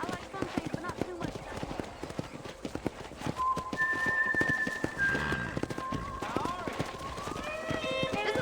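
Hooves clip-clop rhythmically across the ground as horses move about a corral in Red Dead Redemption, with a whinny and bright tonal game-like sounds over the top.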